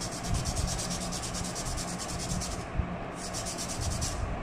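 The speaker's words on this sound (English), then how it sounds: "when you sand this way, you guys can see if there's any sanding marks on this part" Small Gundam model kit part for a 1/60 Duel Gundam Assault Shroud conversion being sanded, a steady close rasping rub with rapid regular strokes and a brief pause near the middle, no talk.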